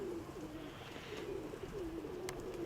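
Pigeons and turtle doves coo in repeated low, soft phrases close by, with a few brief chirps near the end and no talk.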